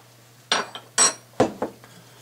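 A spoon scrapes and knocks against a pot while baked spaghetti sauce ingredients are mixed: four sharp, close clinks spaced about half a second apart, with quiet between them.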